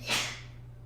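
A single short, sharp sneeze bursts out close by during a casual podcast conversation, peaking quickly and then trailing off into a steady low background hum.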